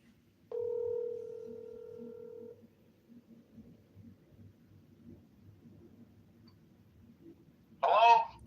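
A phone call being placed gives one steady electronic tone lasting about two seconds. Quiet low rumble follows, then a brief voice is heard at the end.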